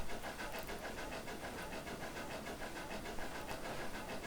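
A Skookum 2-4-4-2 steam locomotive in Trainz 2019 chuffs along with a fast, evenly repeating exhaust beat over a constant mechanical rumble, faint and steady throughout, no voices.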